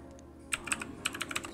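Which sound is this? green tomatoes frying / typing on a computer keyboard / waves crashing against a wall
typing on a computer keyboard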